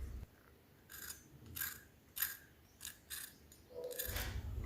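Crispy curd dosa made from rice batter being broken apart by hand, giving several short, sharp crunching and crackling bursts spaced about half a second apart, fairly faint and close, with no talking.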